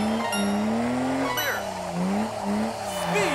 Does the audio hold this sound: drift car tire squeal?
yes